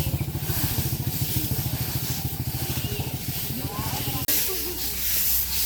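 A motorcycle engine running close by with a steady, rapid, throbbing pulse, loud and continuous, before the rhythm breaks off near the end into a rougher hiss.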